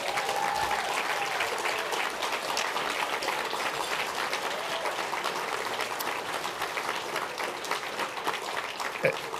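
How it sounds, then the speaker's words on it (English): Sustained applause from an audience at a Canadian film editors' awards ceremony fills the room, a dense, even clapping that holds steady for the whole stretch without voices over it. "So let's get another big round of applause for all the assistant editors in the room."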